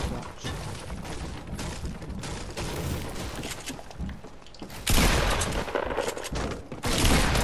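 Rapid bursts of gunfire in a Fortnite match, dense and loud, running continuously with a sharp surge of louder shots near the end.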